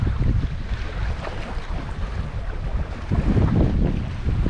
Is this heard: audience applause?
no